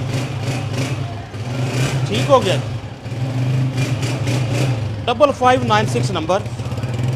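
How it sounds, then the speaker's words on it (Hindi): Restored Honda 125 motorcycle engine idling steadily with a low, even hum throughout, while people talk over it close by. "अच्छे साउंड में ये भी होंडा बोल रहा है"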